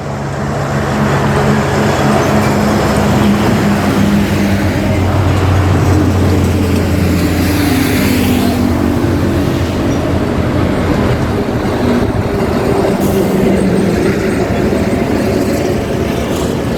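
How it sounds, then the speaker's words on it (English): Heavy trucks roll past on a highway during off season, a loud continuous rumble and roar with swelling passes, no talking over it. "So there are only trucks on this highway."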